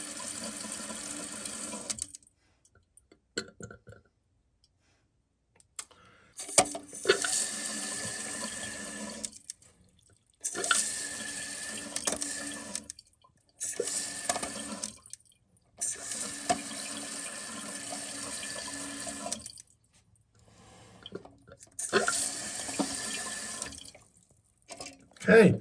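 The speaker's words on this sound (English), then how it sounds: "I'm going to go ahead and turn the water supply back on." A Kohler toilet tank refilling once the water supply is turned back on, with steady hissing and rushing in repeated bursts separated by short quiet pauses.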